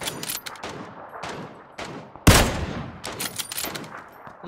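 Rapid gunfire in an online battle royale shooter match, bursts of shots crackling through the clip with one loud close blast midway, layered over game noise and background effects.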